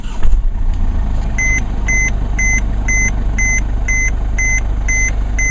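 A diesel truck engine, started by push button, catches with a brief thump and settles into a loud, steady low rumble, while a high electronic chime beeps at a regular pace above it.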